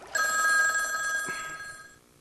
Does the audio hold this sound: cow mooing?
no